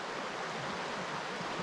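Flowing stream water at Fox Creek, a steady even rushing hiss of running water, close and continuous with no voices.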